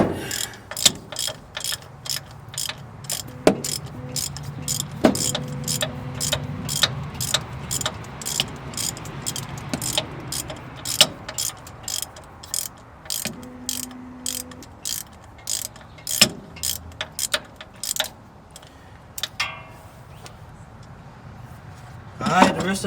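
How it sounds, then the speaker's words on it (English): A socket ratchet with a short extension clicks in quick, steady runs while loosening a bolt on a small-block Chevy 350 engine in a 1983 Chevy C10, heard close, with brief pauses and faint background noise. "Then I'm gonna come behind it with the ratchet."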